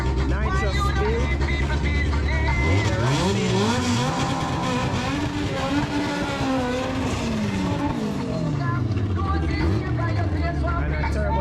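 Drag cars at a strip, a nitrous-fed Honda B-series against a turbocharged K-series, roar past loudly with rising and falling engine pitch through upshifts, a dense continuous engine blare over crowd noise and talk.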